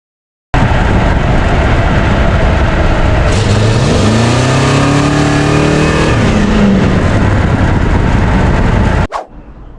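A 1955 Plymouth station wagon with a 318 Magnum engine accelerates hard, a loud, sustained roar with the pitch climbing through the gears before cutting off abruptly near the end.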